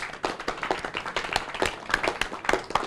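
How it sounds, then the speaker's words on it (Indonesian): Audience at a party basecamp gathering claps for two young women, Afi and Gloria, a lively patter of individual close claps from a modest crowd, uneven and continuous throughout. "dikasih tepuk tangan sekencang-kencangnya untuk Afi dan Gloria"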